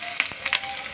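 Garlic hitting hot oil for a tempering in a home kitchen, giving brief crackling sizzle bursts over a steady low frying hiss. No one speaks.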